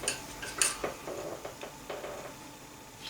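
A palette knife scrapes oil paint on a palette and canvas: close, light metallic clicks and brief scraping strokes, a sharp tap early, then softer scrapes fading out.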